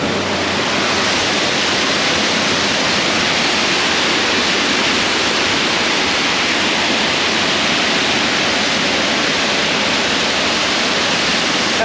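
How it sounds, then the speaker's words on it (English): A park water feature splashes steadily, a dense, continuous rushing hiss of falling water heard close and loud with no break for the whole duration. "How cool is this water feature?"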